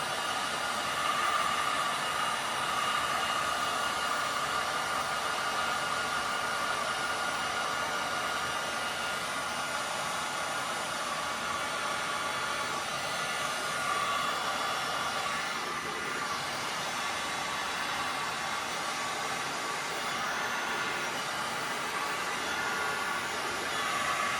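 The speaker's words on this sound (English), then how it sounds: "Not actually used to this heat gun because my other one just died on me, so I haven't used this one before." Heat gun blowing hot air in a continuous, loud, steady rush with a faint tonal whine, unbroken for the full length and with no talk.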